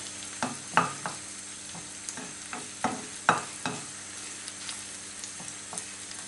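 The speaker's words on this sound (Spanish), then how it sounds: "Ya que empiezan a freír los ajos, nada, empiezan ahora ahí a contactar ellos." Garlic fries in a pan for lamb sweetbreads al ajillo, giving a steady close sizzle broken by soft scraping stirs, with no voices.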